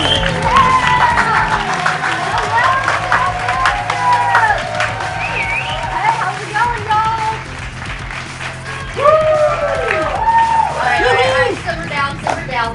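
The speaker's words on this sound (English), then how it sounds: "I know that we got a crowd gathered, and here it is." A live show audience claps steadily and cheers, a dense, loud wash of applause with whoops and voices rising above it throughout.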